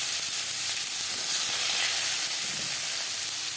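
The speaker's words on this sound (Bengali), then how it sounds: "মাছ ভেজে নেওয়ার তেলে দিয়ে দেবো পেঁয়াজ কুচি" Chopped onions hitting hot oil left over from frying fish, a loud continuous close hiss and sizzle that holds steady throughout with no voices.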